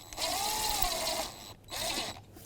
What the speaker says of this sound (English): And I have a 8mm socket. I'm going to snug it up.